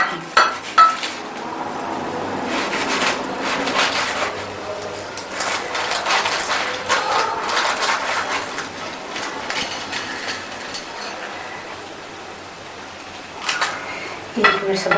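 A knife cuts through a hot Arabic mutabak paratha on a plate, with repeated scraping and clinking of metal on the dish in uneven bursts, close and moderately loud.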